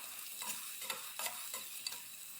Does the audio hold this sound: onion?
yes